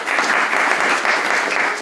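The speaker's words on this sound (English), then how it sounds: "give yourselves all a round of applause" Audience at a Leeds Digital lunch talk applauding to close the session: a dense, steady round of clapping from many hands, loud and close, holding evenly throughout without a break.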